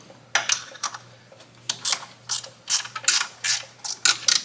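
Ratchet wrench loosening the bolts on a Jeep power steering pump, a series of short clicking bursts at an irregular pace, close and clear with no talking.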